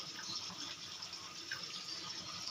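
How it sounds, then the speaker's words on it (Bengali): A small amount of water is poured into a cooking pan, giving a soft, continuous splashing trickle that is faint and close, with no voices. "এবারে দিয়ে দেবো অল্প পরিমাণে জল"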